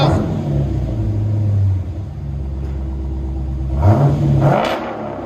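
A 2021 Dodge Challenger Scat Pack with a 6.4L HEMI V8, dual exhaust and six-speed manual, revving up to about 4,000 rpm in a deep, loud rumble that dips briefly and then climbs in a second rise.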